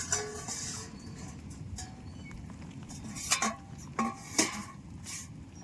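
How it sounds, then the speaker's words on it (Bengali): A lid lifted off a pot of simmering boal fish curry, a few sharp metallic clinks near the end over a soft steady bubbling background, no talk. "এবার আবার ডাকনাটা খুলে দেবো"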